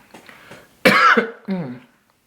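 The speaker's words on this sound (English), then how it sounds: "It made me cough" A single sharp cough bursts out after a few soft sounds, followed by a brief throat-clearing sound, close and loud.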